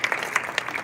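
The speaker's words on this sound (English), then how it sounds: "I think we should have a round of applause for George Kambosos." Audience applause at a boxing press conference in Las Vegas, heard as a short, dense burst of clapping from the crowd.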